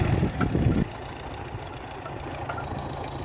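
An 80-horsepower tractor engine pulling a seeder rumbles steadily at a middle distance. A heavier, louder burst at the start settles into an even drone, with no voices.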